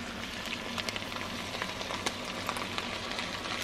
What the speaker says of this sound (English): Can you guys hear it sizzling?